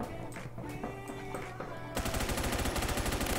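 Gunfire in the video game Phantom Forces, a few scattered shots first and then a loud rapid automatic burst of evenly spaced rounds filling the second half.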